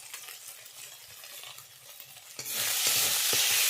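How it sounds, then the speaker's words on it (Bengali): Spice masala with a pinch of salt sautéing in a pan gives soft scraping and stirring at first, then a sudden louder hiss as fresh ingredients hit the hot oil and keep sizzling. "দিয়ে দিচ্ছি মশলা কষানোর সময় অল্প করে লবণ"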